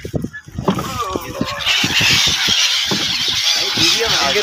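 Many birds call together in a dense, noisy chorus of squeals and honks, with a few people talking over the flock.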